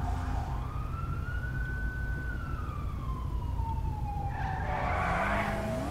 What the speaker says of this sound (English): Jeez, that car just burnt out.